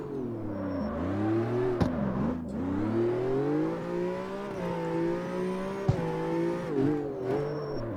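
A BMW recreated from Need for Speed Most Wanted, driven in the CarX Street racing game, revs loudly and steadily as it accelerates downhill, its engine pitch climbing and dipping through gear changes with no pauses.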